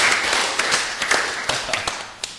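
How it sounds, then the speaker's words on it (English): Scattered audience applause at a cricket show, a loose handful of claps and taps at close range with faint background chatter. "Round of applause."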